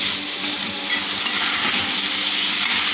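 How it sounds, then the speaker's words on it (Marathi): Potatoes sautéing in hot oil with masala for a potato curry, a steady close sizzle with faint stirring scrapes, continuous and fairly loud throughout with no voices. "भाजी एकदम छान अशी आपण तेलामध्ये परतवून घेतलेली आहे"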